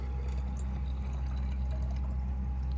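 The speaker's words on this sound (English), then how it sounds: "I took the water that was in here and poured them into the containers that have the plants in them." Warm water pours steadily into containers holding pineapple crowns for indoor rooting, a continuous soft trickle with no talk.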